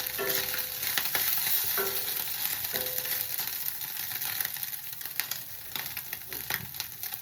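Small kachki fish fry lightly in a pan, a dense steady crackling sizzle close by with occasional faint spatula clicks and no voices.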